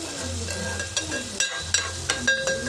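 Egg curry sizzles and fries in a pan while curry leaves are sprinkled in, a steady hiss broken by a few light stirring clinks.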